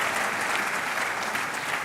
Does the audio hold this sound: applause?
yes